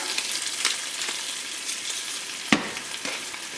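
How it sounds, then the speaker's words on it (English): Spinach cooks down in a pan with a splash of stock, hissing and sizzling steadily up close, with a sharp clatter about two-thirds of the way through. "spinach is going in, along with a tiny bit of stock to help cook it down"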